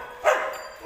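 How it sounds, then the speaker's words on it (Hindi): A single short dog bark rings out at moderate distance during a confrontation between dogs, then fades into a faint background hiss. "ये वाला कुत्ता था"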